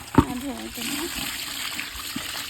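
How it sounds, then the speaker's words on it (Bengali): Water splashes and trickles while a bucket is washed out beside a fishing pond, with a sharp splash at the start and then a soft continuous pouring and dribbling as a person talks over it. "এখন তো ধোয়া হচ্ছে যে ধুয়ে ধুয়ে সব বালতিটা ধুলে ভালো"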